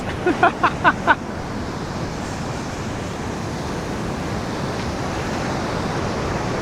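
Ocean waves wash onto a beach in Bali as a steady, loud roar of surf and wind, preceded by a brief burst of short sharp sounds at the start.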